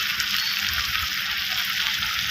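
Chili paste, ginger, garlic, turmeric and salt sizzling loudly in a hot pan as the spice mix is sautéed for a prawn curry, a dense continuous close frying hiss with faint stirring, no voices.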